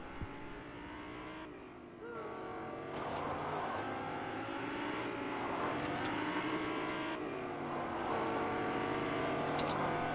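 Cars drive in a video game, engines revving and accelerating with rising, whining pitch, growing louder over several seconds, with brief sharp squeals and bursts mixed in.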